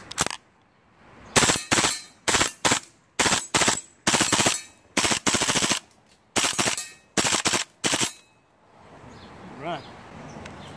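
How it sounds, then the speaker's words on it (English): Kriss Vector airsoft gun firing on full auto: about a dozen sharp, loud bursts of rapid shots with short pauses between them, close to the mic, then quieter outdoor ambience with faint birdsong. "Try the Kriss Vector full auto."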